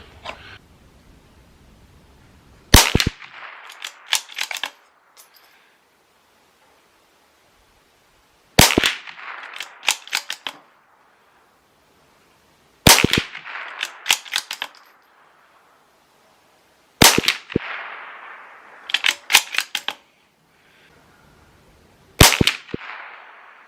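Bergara B-14R .22LR rifle firing Winchester Super X 40-grain hollow points, five sharp, loud cracks spaced several seconds apart, each followed by brief metallic bolt-cycling clicks and rattles, with near silence between shots.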